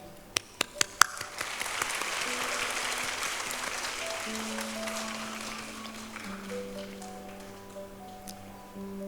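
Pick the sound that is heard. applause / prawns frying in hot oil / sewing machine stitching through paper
applause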